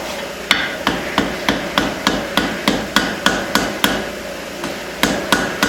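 A hammer rings against hot steel on an anvil while forging a small hammer head, striking in a steady, evenly spaced rhythm of about fifteen sharp, close blows, with a short pause near the end.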